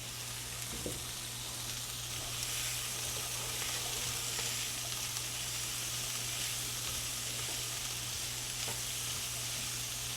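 Chickpeas frying in oil with dried pepper and aromatics, giving a steady close sizzle and hiss that runs the whole time with a low hum beneath and no talking.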